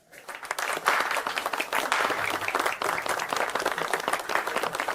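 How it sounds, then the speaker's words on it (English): Audience applause for the founders of a company, a dense, steady wash of many hands clapping that swells in quickly and holds loud for several seconds. "Can we get a big round of applause for our founders, Charlotte Brown and Harper Lee?"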